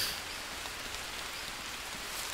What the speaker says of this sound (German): Regnet gerade.